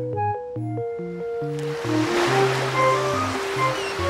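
Soft rushing surf, like waves heard in a seashell held to the ear, swells under a bouncy melodic tune played on a keyboard in a cartoon.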